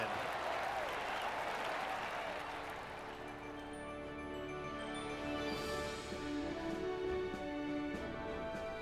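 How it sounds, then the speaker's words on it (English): A crowd applauds steadily after a golf win in the PGA Tour 2K21 video game, a soft, continuous patter that holds throughout. "Sometimes you've just got to stand and applaud."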